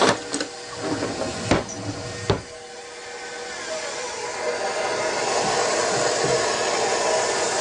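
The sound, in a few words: electric mixer mixing butter and sugar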